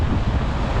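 High wind buffets the microphone during an e-bike ride on a beach path, a continuous loud low roar with no talk over it.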